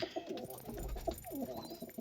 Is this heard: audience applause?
no